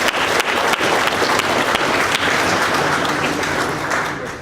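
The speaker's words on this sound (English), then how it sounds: "I'd like to give him a round of applause because this is an amazing map." A round of applause from an audience at a city public engagement meeting, many hands clapping loudly and steadily before gradually tapering off toward the end.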